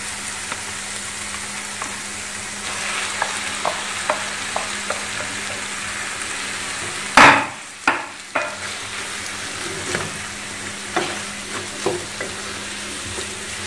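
Kidney bean (rajma) paratha stuffing, seasoned with red chili powder, sizzles steadily in a pan while it is stirred, with a cluster of loud scraping spoon strokes near the middle and lighter scrapes after.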